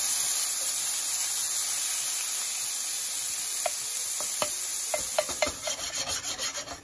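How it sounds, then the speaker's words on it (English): Meat browns and sizzles in a Ninja NeverStick pan with Italian seasoning for lasagna, a steady broad hiss with scraping taps and clicks as it is tossed toward the end, close by and without talk. "Browning it off, give it a little toss."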